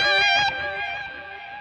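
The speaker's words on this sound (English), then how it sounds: "On the solo section, I turned on, of course, my trustworthy tape echo delay." An electric guitar solo runs through a tape echo delay with a drive tone, a sustained distorted note whose repeats ring on and slowly fade.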